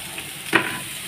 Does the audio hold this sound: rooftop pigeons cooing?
no